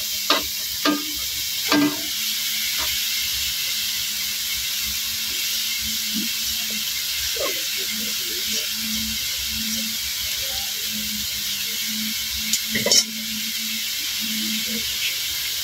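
Leftover cold rice being stir-fried in a pan for sinangag: a steady hiss of frying under intermittent scraping and clattering strokes of a spatula, with brief faint voice sounds.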